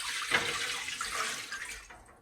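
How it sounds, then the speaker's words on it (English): Four cups of water go into a roasting pan holding pastrami, a short, fairly soft rush of pouring and splashing close by that tapers off at the end. "4 cups of water. We're gonna put this right into our roasting pan."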